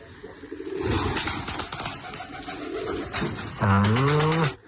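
A pet pigeon in its nest gives a deep, wavering, throaty coo at the end, loud and close, after rustling and shuffling movement sounds with faint talk in the background.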